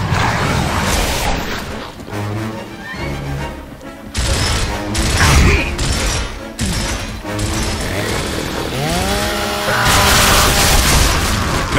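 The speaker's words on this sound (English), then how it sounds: "So many fucking grenades are going off in here." Grenade and weapon blasts in the Gears of War co-op campaign: repeated heavy booms and crashes mixed with bursts of gunfire, loud and chaotic, with game effects sweeping through between explosions.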